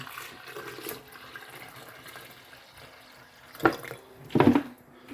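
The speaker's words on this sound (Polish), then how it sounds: "Teraz to zalewamy wodą." Water is poured over whole peppercorns and spices in a blender jug, giving two short, close splashing bursts near the end after a quiet stretch.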